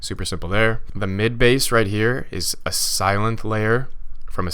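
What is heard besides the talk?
No everyday noise stands out behind the speech.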